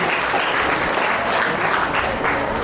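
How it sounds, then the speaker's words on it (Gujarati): A seated audience at an annual community convention in Bardoli claps loudly, a dense, even roar of applause that holds steady from start to finish. "ખૂબ ખૂબ તાળીઓના ગડગડાટથી વધાવી લઈએ."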